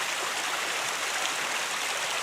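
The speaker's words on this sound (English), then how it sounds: "next to some tiny waterfalls" A tiny waterfall of garden drainage water beside a park stair trail, a steady, close, broadband rush and splash that holds even and unbroken throughout with no voices.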